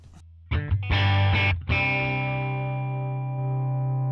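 Electric guitar played through an amp model on a Valeton GP-5 modeler: a few choppy distorted strums, then a full chord left ringing and slowly sustaining with a rich, saturated tone, played alone.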